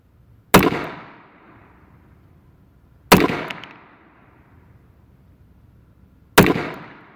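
Three sharp, loud reports from an AMT Automag II .22 Magnum pistol, each a crisp crack with a short decaying ring, spaced a few seconds apart with quiet between.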